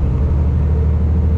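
Semi truck engine at full throttle on an American interstate, a steady low rumbling drone heard from the cab without a break.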